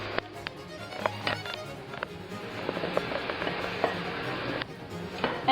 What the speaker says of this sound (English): I'm going to add all my mushrooms. So these are the white mushrooms.